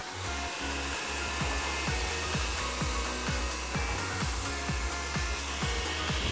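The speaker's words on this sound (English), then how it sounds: "So we're going to start the blow dry now, and I'm going to be using a flat brush" Hair dryer blowing on hair styled with a flat brush, a loud continuous whooshing roar with a steady motor whine, close and uninterrupted, with faint brushing strokes underneath.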